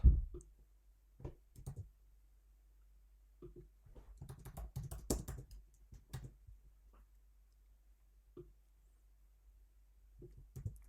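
Soft scattered keyboard clicks from typing on a computer, isolated taps with a brief denser burst in the middle, faint and close in a quiet room.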